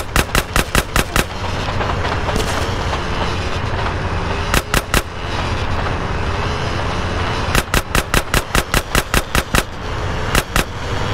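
Gunfire in the video game GTA San Andreas: loud bursts of rapid automatic shots in clusters, separated by stretches of engine or ambient rumble, with no talking.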